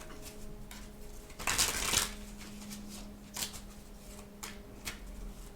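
Tarot cards being shuffled by hand: a loud riffling burst of card noise in the middle, followed by a few lighter card flicks and slides over a quiet room.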